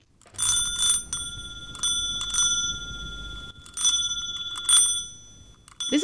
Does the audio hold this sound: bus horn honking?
no